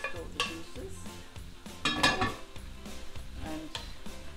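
Fried bacon and its juices are stirred into a pan of pasta and vegetables, with a spoon scraping and clinking against the metal in irregular bursts over a faint sizzle.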